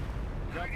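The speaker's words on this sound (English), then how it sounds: "Incendiary mortar" An incendiary mortar shell bursts in the World War II strategy game Company of Heroes, a low, rumbling blast that rolls through the whole brief moment beneath a voice.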